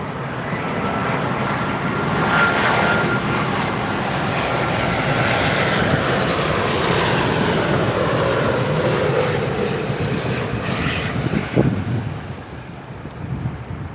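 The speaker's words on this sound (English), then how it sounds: "Right, British Airways A350. Here we go." A British Airways Airbus A350 lands at Heathrow on runway 27R, a loud, steady roar of jet engines and rushing air that holds for the whole stretch before easing slightly near the end, with wind buffeting the microphone.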